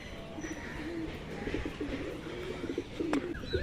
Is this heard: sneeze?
no